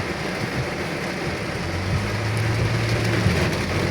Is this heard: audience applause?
no